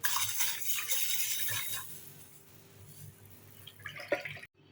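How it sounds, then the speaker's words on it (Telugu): Washing one cup of green gram (mung beans) in water, close splashing and dripping with small bean rattles, busy at first then quieter, ending in a brief clatter before stopping. "పెసలు 1 కప్పు తీసుకొని వీటిని ఒకసారి శుభ్రంగా వాష్ చేసుకోండి."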